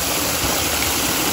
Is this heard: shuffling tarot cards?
no